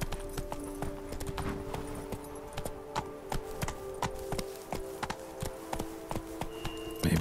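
Horse hooves gallop in The Witcher 3 video game, a fast, steady clip-clop rhythm close by over a constant ambient game backdrop.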